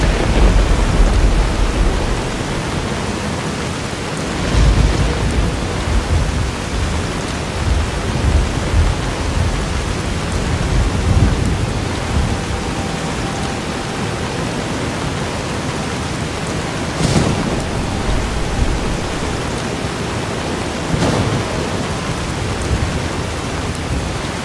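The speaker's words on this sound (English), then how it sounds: "The storms of Nevada skies sound really good though." Thunderstorm with steady heavy rain from the video game Fallout: New Vegas, set under Nevada skies. Rain hisses continuously throughout, with low rumbles and a few sharp distant thunder cracks, and no talking.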